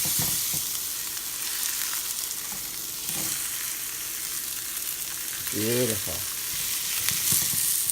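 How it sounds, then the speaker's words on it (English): Salmon fries in a pan with a steady sizzle and crackle, and it gets flipped partway through. A short spoken word and a few clicks and scrapes from the utensil break in over the hiss. "let's go ahead and flip that salmon"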